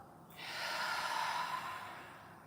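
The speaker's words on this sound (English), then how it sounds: "We'll take a final deep breath in and a complete breath out" A single slow, deep breath in and out during a yoga session: a soft, airy rush of breath that swells and fades, faint and close, with no talking.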